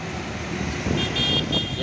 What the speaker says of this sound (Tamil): டிராஃபிக் பயங்கரமான டிராஃபிக்கு,